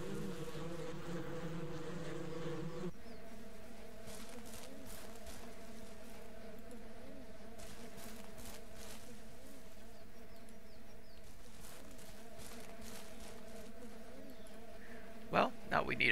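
Honeybees drone steadily at a hornet-like nest in the game Ranch Simulator, a continuous tonal buzz that carries on alone for several seconds, with a brief sharp clatter near the end.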